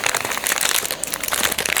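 A plastic packet of bubble tea powder crinkles and rustles continuously as it is handled up close, dense and loud with no talking.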